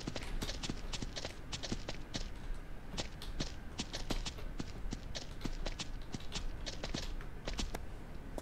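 Horse hooves galloping in the video game Ranch Simulator, a rapid regular clip-clop of sharp hoofbeats continuing steadily throughout, fairly close and alone without talk.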